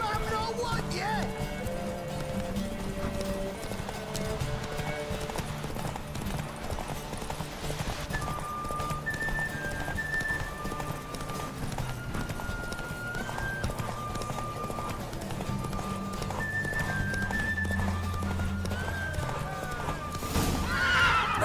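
Roach, the horse in The Witcher 3, gallops with steady clip-clop hoofbeats and gives several whinnies, heard alongside game music and occasional speech.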